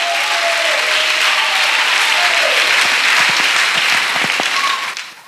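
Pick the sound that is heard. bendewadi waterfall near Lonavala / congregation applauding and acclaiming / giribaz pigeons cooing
congregation applauding and acclaiming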